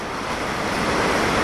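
Water rushes from the Oroville Dam afterbay outlet into the Feather River. It makes a steady, loud, broadband roar that never pauses.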